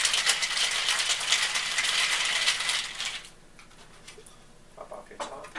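Ice rattles hard inside a cocktail shaker for a blackberry jalapeño martini, loud rapid clatter for about three seconds before it stops, followed by a few faint clinks.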